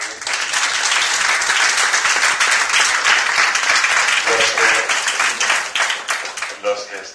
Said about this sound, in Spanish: aquí pido un aplauso para el señor Ajenjo